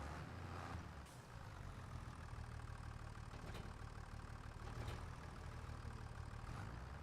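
A tractor engine in Farming Simulator 25 runs at a steady low idle with a constant rumbling drone and faint mechanical clatter, quiet and unbroken throughout.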